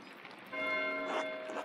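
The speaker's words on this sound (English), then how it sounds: "Why is Matthew ringing the bell?" A monastery bell rings in the medieval game Pentiment, a single sustained metallic tone that swells after a quiet start and hangs with a rich, humming resonance.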